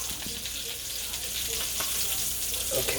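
Burger patties frying in a pan give a steady, close, dense sizzle with faint crackles and pops running throughout without a break.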